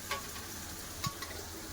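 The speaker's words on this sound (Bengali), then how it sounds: "পেঁয়াজটা ভালো করে ভেজে নেবো" Onion fries in a pan with ginger garlic paste, a faint steady sizzle with a couple of soft clicks from stirring, quiet and without voices.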